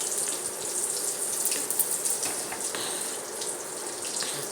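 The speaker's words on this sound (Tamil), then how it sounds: "நல்லா பொரியட்டும் கருவேப்பிலை." Mustard seeds and curry leaves fry in hot oil for coconut chutney tempering, giving a steady close hiss with scattered crackles and pops throughout, no voices.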